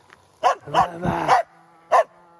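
A Finnish Spitz hunting dog barks in short sharp yaps, a quick cluster of three or four barks followed by two more after a brief pause, close and loud with no talk.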